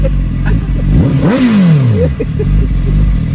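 A motorcycle engine revs up and down while riding, a loud close whine that climbs sharply and then falls away over a rumbling, rattling background.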